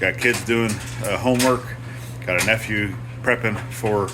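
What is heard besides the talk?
No everyday noise stands out behind the speech.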